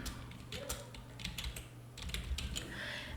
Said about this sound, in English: So type in whatever it is you want.